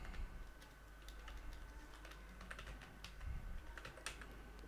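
Someone types on a computer keyboard while entering field names in an MS Access table, a faint, quick, irregular patter of key clicks in a quiet room.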